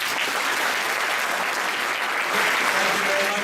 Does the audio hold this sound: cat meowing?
no